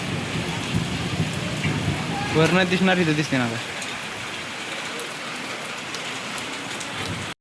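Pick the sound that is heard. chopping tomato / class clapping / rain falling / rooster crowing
rain falling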